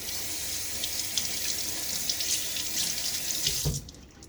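Tap water runs steadily into a sink while a shaving brush is rinsed under it, a continuous close hiss that cuts off abruptly near the end with a brief splash.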